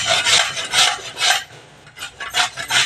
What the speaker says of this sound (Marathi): काकडी मी जाड्या किसणीवर किसणार आहे